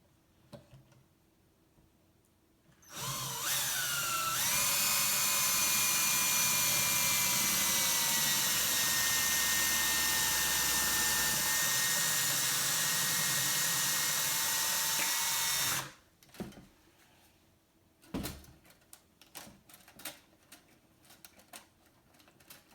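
A power drill with a long bit whines steadily for about twelve seconds, loud and close, drilling two holes in a Gibson Maestro Mini guitar, then stops, followed by a few soft knocks and handling sounds.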